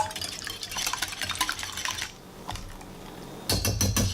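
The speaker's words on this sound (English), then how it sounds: "And we'll give this a good whisk." Eggs seasoned with black pepper and granulated garlic are whisked in a bowl, giving a run of quick, close clinking taps against the bowl, a brief lull, then a louder burst of rapid strokes.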